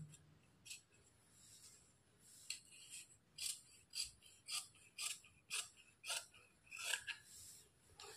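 Scissors snip through blouse fabric along a chalk marking in a quiet series of short, crisp cuts, about two per second, close and soft with no voices.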